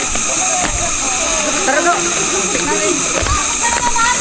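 A person jumps into water at the Coto Mines during a moto camping trip, producing loud splashing and churning water, with a second splash near the end and voices faintly mixed in.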